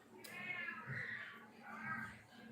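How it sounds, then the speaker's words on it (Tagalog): A domestic cat meows two or three times in drawn-out, whiny calls indoors, moderately close, with a faint murmur of background sound. "ang ingay naman tong pusa ko"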